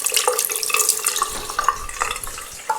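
Tap water runs and splashes during rinsing for wudhu, a close, continuous patter over a sink with small irregular splashes and no voices.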